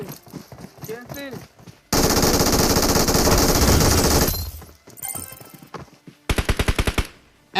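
An MK14 rifle fires in a shooting video game. A voice comes first, then a sustained loud burst of rapid gunfire, and after a pause a quick string of sharp, evenly spaced shots follows.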